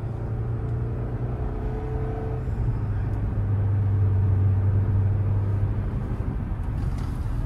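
A car drives along a road, heard as a steady low engine and road rumble from inside the cabin. It holds an even level throughout, with no talking.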